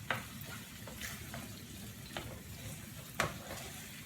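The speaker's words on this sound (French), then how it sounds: "Après, je vais encore laisser mijoter" Chicken-stuffed peppers simmer in a pan with a quiet, continuous bubbling sizzle. A few brief clicks and clatters come through, and no one speaks.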